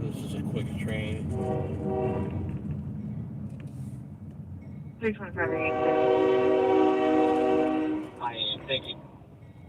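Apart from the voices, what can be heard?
train passing with horn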